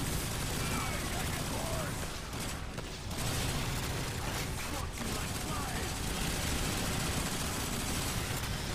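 Rapid gunfire from weapons in a Call of Duty custom zombies map, Deadship, played co-op. Dense, loud, sustained bursts run almost without pause, with a brief dip midway and game voices mixed in.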